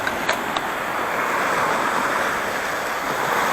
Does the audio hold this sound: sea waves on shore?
yes